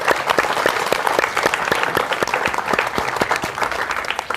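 An audience at an Earth Day celebration event gives research scholars from various departments a round of applause, with distinct, fairly close hand claps repeating steadily throughout.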